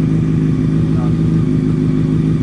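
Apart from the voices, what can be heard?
motorcycle engine running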